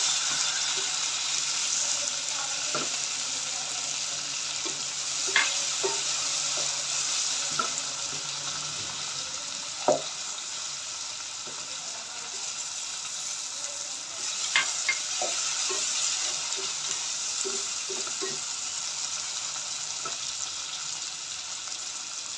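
Tomatoes and garlic fry in mustard oil for a baingan (eggplant) dish, giving a steady, close sizzle with scattered clicks and scrapes from a stirring utensil, and no voices.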